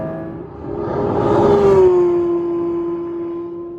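A Porsche 911 S/T's high-revving engine rises to a loud, sustained wail, with a strong steady tone that sweeps up and settles as the car cruises at high RPM from inside the cabin.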